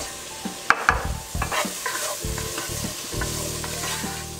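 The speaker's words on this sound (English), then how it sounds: "we're going to be adding a liter of chicken broth to these sizzling vegetables." Vegetables with ginger and spices sizzle in a hot pot while a spoon stirs them, giving a steady frying hiss broken by scraping strokes and clinks near the start.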